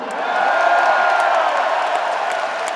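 A large crowd roars and cheers at a heavy metal concert in the Spodek arena, Katowice, a sustained loud wash of voices without a break.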